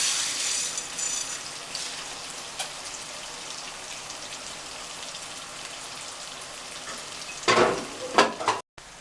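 Lots of chopped onions frying in a pan for koshari: a soft, continuous sizzle and crackle with occasional clatters of stirring, ending in a louder burst of scraping, with no voices.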